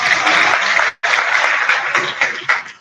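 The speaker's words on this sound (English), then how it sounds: "He deserves a big round of applause" Audience at a gathering honoring Malam Muhammadu Sanusi II bursts into a big round of applause, dense close clapping that breaks off briefly, then resumes and trails into scattered claps.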